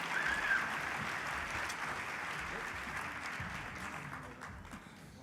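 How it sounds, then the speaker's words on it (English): Audience applause at an awards lunch honoring partners, a sustained wash of clapping that holds steady and gradually thins toward the end, with a faint voice briefly audible at the start. "Please give a warm round of applause to these stellar partners as they each come up"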